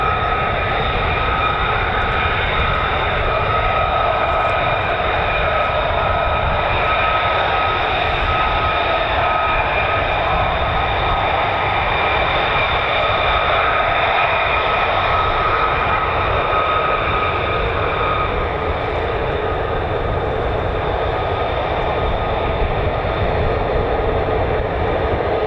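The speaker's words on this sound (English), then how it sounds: "This is the F-35A, so this does not hover." Lockheed Martin F-35A fighter jet taking off at RAF Marham, a sustained loud jet roar with steady high whine holding throughout, broad and unbroken with no voices.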